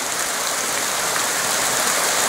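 Steady broadband rush of water from a waterfall at Ryuou-no Taki Shrine in Japan, continuous and fairly loud with no break in the roar, and no voices on top of it.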